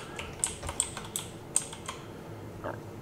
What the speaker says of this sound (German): ich glaube, die Tastatur, die wird euch stören.